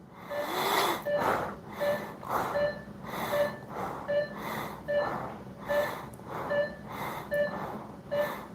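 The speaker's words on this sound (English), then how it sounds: "let's do the rapid shallow breathing starting here" A person does rapid, shallow breathing, with quick, even, audible breaths repeating at a steady pace, close up and with no talking.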